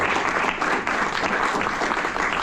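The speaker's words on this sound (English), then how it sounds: "I just want to help me give them a round of applause for the great work that they've done" Audience applause at a meeting, a dense, steady wash of clapping from many hands that stays loud and even throughout, with no talking over it.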